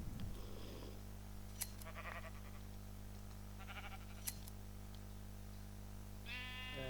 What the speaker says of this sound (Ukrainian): давайте ми підстрижемо всіх наших овець